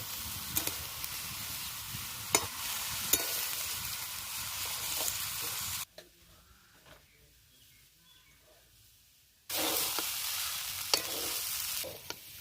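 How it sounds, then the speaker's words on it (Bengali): Washed rice being stirred into chicken biryani in a pot, with a steady sizzle and repeated scraping knocks of the spoon, broken by a quiet gap in the middle before the stirring resumes. "এইবার আমি এই চালটা দিয়ে দেবো, ধুয়ে রাখা চালটা। চালটা দিয়ে নেড়ে দেবো।"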